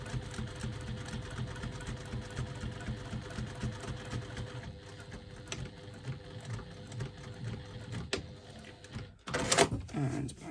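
Close, even whirr of a home sewing machine stitching around the outside of a foam-lined wristlet, slowing briefly midway, then stopping with a few clunks and handling noises near the end.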